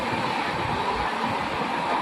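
Steady rumble of a moving passenger train heard from inside a carriage on the way to Haridwar, a continuous low rolling drone with faint rail noise and no talking.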